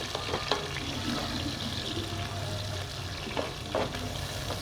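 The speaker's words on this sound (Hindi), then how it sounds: "और इसको अच्छी तरह से फ्राई कर देंगे" Chopped onions frying in hot ghee in a pan, a soft continuous sizzle at low to moderate level with occasional small crackles and a stir or two, no talking.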